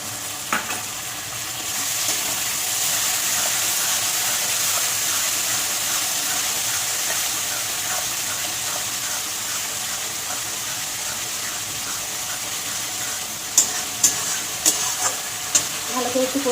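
Spiced curry masala with sour yogurt and a splash of water sizzles steadily in a hot pan while being stirred, a continuous frying hiss near and clear, closing with a few sharp scrapes or taps of the spoon.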